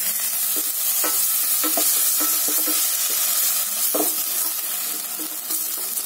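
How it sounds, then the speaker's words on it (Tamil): Ground mint paste sautés in a pan with dried red chillies for mint rice, a loud continuous sizzle broken by soft scraping stirs of the spatula at irregular intervals, close up, with no talking. "பச்சை வாடை போகிற அளவில் வதக்கணும்."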